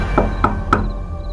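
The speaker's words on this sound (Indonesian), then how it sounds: "Ketukan itu masih terdengar." Three firm knocks on a door in a horror radio drama, evenly spaced and close, followed by a quiet hum with no voices.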